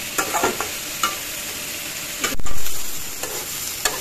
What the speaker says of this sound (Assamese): এইখিনি এতিয়া অলপ পৰিমাণকৈ লৰাই দিলোঁ